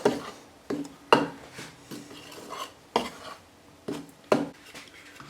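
Egg mixed into milk roll dough with a spoon in a bowl, giving a series of irregular scraping clinks and knocks against the bowl, close up and without speech.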